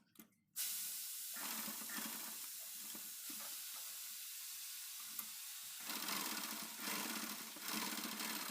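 A steam iron presses blouse sleeve fabric, giving a steady close hiss of steam that swells and eases in long bursts, with no one talking.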